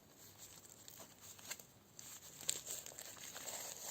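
Plastic bags crinkle and rustle faintly as fig cuttings are pulled out of them, soft irregular crackles with a few sharper rustles and no speech.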